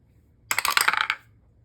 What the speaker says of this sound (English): The first roll is a d20, which will decide how many pieces the kit will be.